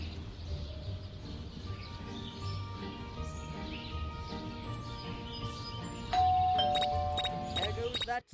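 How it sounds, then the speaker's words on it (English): A bell rings in the Scary Teacher 3D video game, a bright tonal chime that enters near the end over steady game music and background sound. "There goes that stupid bell again."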